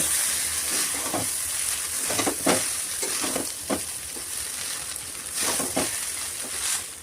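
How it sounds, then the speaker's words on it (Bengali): Chow mein noodles fry in a pan at home, a steady close sizzle broken by repeated scraping stir strokes and crunchy tossing sounds, with no talking. "এখানে হচ্ছে চাউমিনটা মা ভেজে নিচ্ছে, আরও দিচ্ছে, মানে অল্প অল্প করে ভাজছে"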